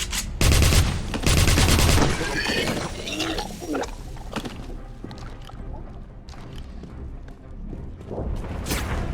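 Gunfire in Wolfenstein (2009) opens with a loud, rapid automatic burst, followed by scattered shots, clanking mechanical sounds and softer firing that fades into a busy background.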